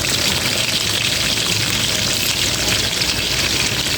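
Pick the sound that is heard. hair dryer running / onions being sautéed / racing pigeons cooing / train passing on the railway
onions being sautéed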